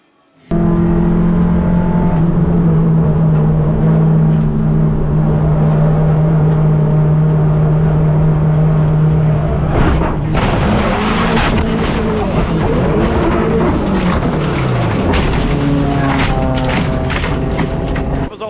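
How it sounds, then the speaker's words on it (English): Racing cars roar loudly and continuously, with a Hyundai getting sideways and sliding off into the barriers. Sustained engine drone gives way to a burst of scraping, crashing noise midway as engines keep revving, with no talk. "Ran Wong and he's right there on the back of the Hyundai, which now gets sideways and he's off in the barriers in spectacular fashion"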